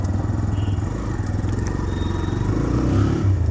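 A freshly cleaned motorcycle pulling away, its engine chugging in a steady low rhythm close by, with some clatter and scraping over the continuous rumble and no talking.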